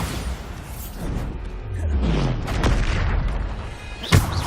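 A Bombarda spell explosion in the video game Hogwarts Legacy, layered rumbling booms and whooshes building over several seconds and ending in one sharp close blast.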